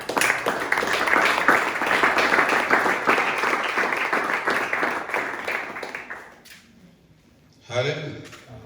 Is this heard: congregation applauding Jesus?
yes